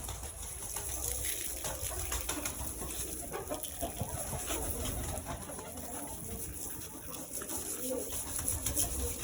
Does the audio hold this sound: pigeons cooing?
yes